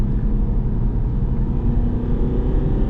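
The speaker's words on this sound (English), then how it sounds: "you can hear that turbo diesel get a moving" A 2011 Audi A3 TDI turbo diesel engine revs up after a paddle-shift downshift, giving a steady, low droning rumble heard from inside the cabin with no talking over it.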